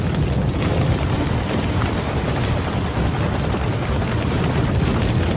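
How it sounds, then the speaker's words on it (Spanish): A Chinook helicopter in flight just before a crash, heard as a steady, loud, dense rotor and engine roar filling the whole stretch with no letup and no voices. "Un helicóptero Chinook se estrellaba"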